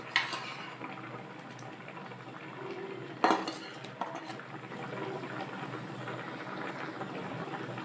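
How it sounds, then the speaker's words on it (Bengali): Fried tengra fish go into a simmering spinach curry in a pot, marked by a sharp clank of utensil on metal midway over a soft background of bubbling and stirring, with no talk. "এখন আমি তরকারিতে দিয়ে দিব ভেজে রাখা মাছগুলো।"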